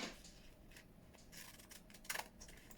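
Scissors cutting through leftover packaging material, a few quiet snips and rustles close by, with one sharper crisp cut near the end.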